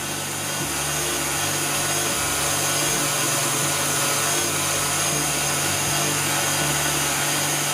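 Stand mixer whisking macaron meringue as sugar is added, a steady, loud, continuous whirring drone that holds an even level throughout, with no talking.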